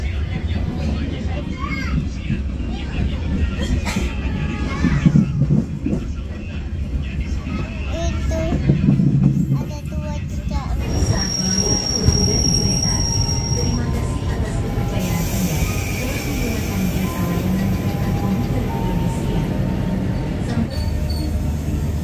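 Argo Bromo Anggrek train passing at an Indonesian station, steady loud rumble of wheels on rails with a high metallic squeal of the wheels partway through and rising into a sustained screech toward the end.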